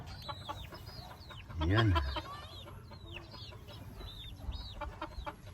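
Native chickens cluck and chirp in short calls around a farmyard, with a brief louder thump or rustle and a short spoken word nearby.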